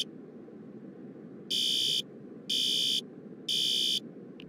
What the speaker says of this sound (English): I am going to pull the fire alarm.